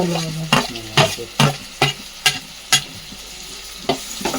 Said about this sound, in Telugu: ఈ టమాటాలు బీన్స్ క్యారెట్ మొత్తం ఒకేసారి వేసుకున్నాం